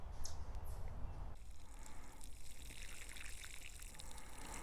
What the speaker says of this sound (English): Let me water these right quick before I move on to the next thing.